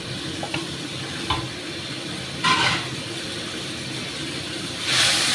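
Bitter gourd (karela) frying with spices in a pan over a high gas flame, a continuous sizzle broken by a few scraping stirs and louder bursts of hissing.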